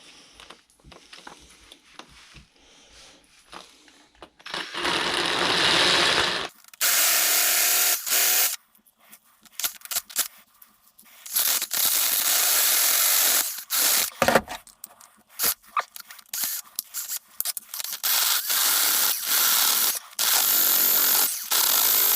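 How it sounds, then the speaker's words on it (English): A power drill spins a cutting bit against an X-Maxx stub axle, grinding loudly in several long bursts separated by short pauses, with quieter handling noise at the start. "But I can just stick it in my drill here"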